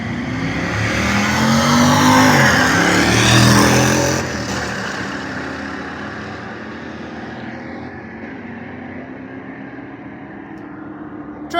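Drag racing cars, including an Oldsmobile 442, roar past loudly, their engines swelling to a peak and then dropping off into a fading drone as they speed away down the strip.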